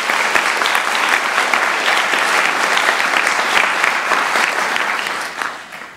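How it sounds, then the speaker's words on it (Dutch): Audience at a university graduation ceremony breaks into loud, sustained applause, a thick wall of clapping with a few sharper claps standing out, tapering off in the final second. "geef hem even een applaus"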